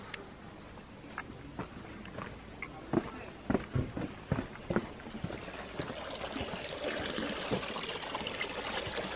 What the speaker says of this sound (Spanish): Allá desagua toda la fuente.